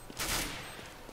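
A headshot gunshot in Counter-Strike: Global Offensive on the Nuke map: one sharp, loud report followed by a short decaying tail, standing alone with no talk over it.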